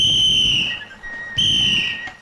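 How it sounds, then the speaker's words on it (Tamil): Shrill hand-held whistle blown in two long, loud blasts separated by a short gap, each steady pitch trailing off, with low crowd rumble underneath. "யாருக்கு விசில் அடிக்கிறீங்க?"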